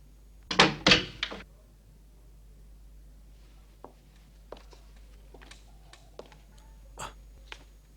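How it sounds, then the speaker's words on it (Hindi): A door in a hospital scene from a 1980 Italian police comedy gives two loud, close knocks or thumps near the start, followed by quieter scattered clicks and taps in a mostly quiet room. "दरवाजे को क्या हुआ?"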